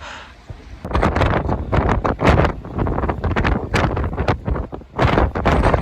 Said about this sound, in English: it's so fucking bastard windy at the moment